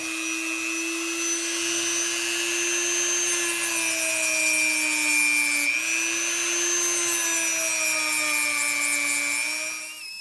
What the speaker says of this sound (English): The sanding disc is worn out.